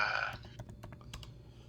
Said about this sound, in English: So I suppose I just go typing greater than 6.